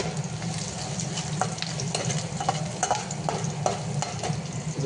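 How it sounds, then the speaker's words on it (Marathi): Onion frying with cumin seeds in a hot pan, a steady close sizzle with faint stirring scrapes and small crackles, no voices. "जिरं टाकून कांदा टाकत आहे।"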